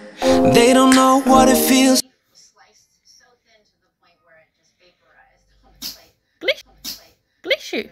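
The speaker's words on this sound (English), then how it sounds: "That was a big sneeze." A big human sneeze bursts out loudly near the end. It follows a stretch of sung music and a quiet pause, and a few short, sharp sounds come after it.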